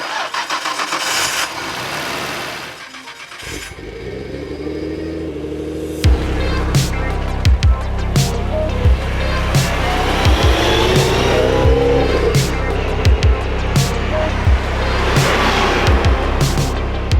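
A 1995 Nissan Skyline GT-R V-Spec (R33) starts up and settles into a loud, close idle, with sharp revs rising and falling over the steady rumble and no talking.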